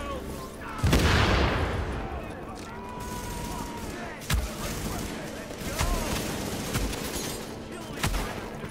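Shotgun fire in Tom Clancy's The Division Dark Zone, a loud opening blast followed by several sharp, spaced reports over a busy combat bed, with someone talking underneath.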